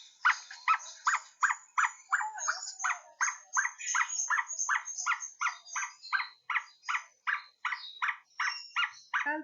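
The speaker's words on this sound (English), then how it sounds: "Let's listen to the song of ostriches." Ostrich calls, a rapid series of about twenty evenly spaced, loud, pulsing hoots repeated throughout, heard alone with no talking.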